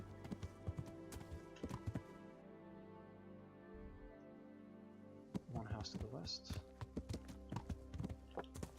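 Horse hooves clop in the medieval video game Kingdom Come: Deliverance, intermittent hoofbeats mixed with game sounds while someone talks over them.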